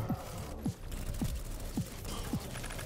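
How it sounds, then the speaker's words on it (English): Repeated mechanical clicks and ratcheting from a gun reloading in the video game Echo Point Nova, five or six evenly spaced clacks over steady background game noise. "My time to reload."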